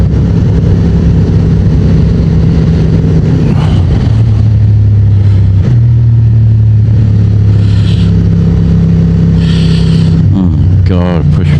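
A Honda Transalp 750 motorcycle at about 27,600 km, ridden at low speed, its engine droning loudly and steadily with slight shifts in pitch, under a rider's voice and wind noise.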